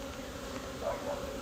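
Honey bees swarm around an opened hive during an inspection, making a continuous dense buzz with small swells, close by and with no voices.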